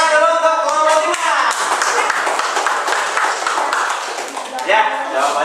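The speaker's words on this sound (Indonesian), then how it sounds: "tepuk tangan dulu untuk kelompok 5" Classroom applause for a student group, a burst of clapping from many hands lasting several seconds, with a teacher's voice speaking over the start and end.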